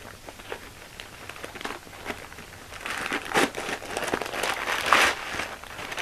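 Iconic brown paper bag from Midtown Comics being handled, giving a run of dry crinkles and rustles that grow louder and busier toward the end, heard alone.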